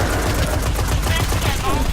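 Rapid automatic rifle fire in the video game Destiny, a loud dense stream of shots in quick succession filling the whole stretch at a steady fast rhythm.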